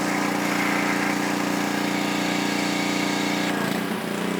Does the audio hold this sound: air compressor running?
yes